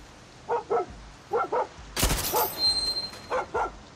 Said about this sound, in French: Quoi? Un chien?